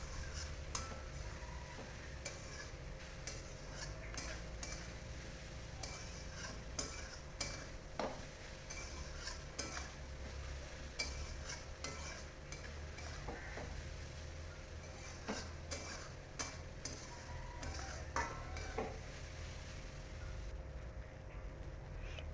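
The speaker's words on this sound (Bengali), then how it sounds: "স্বাদ মতো লবণ, হলুদ দিয়ে ভালো করে ভেজে নেব।" Steady soft sizzle of taro frying with salt and turmeric, close and continuous, broken by frequent light ticks and scrapes of a spoon stirring against the pan; no voices.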